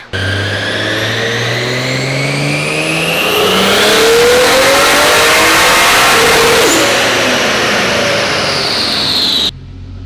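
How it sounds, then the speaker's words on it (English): A tuned Nissan S13 coupe with a JZ engine revs hard and loud on a dyno, pitch climbing steadily to a high sustained roar before cutting off abruptly near the end. "I revved it a little bit higher too"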